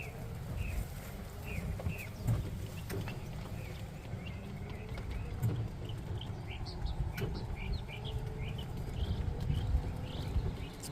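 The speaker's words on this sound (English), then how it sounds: "Listen to the birds." Birds chirp and call outdoors in several short bursts across the scene, set against a steady low rumble of background noise.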